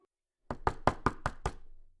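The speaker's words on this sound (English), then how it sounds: "They knocked again, making the close sign on the inside of the door bounce and sway." Someone raps on a wooden shop door, six quick, evenly spaced knocks after a short silence, sharp and close, then a brief fading rattle, with no voices.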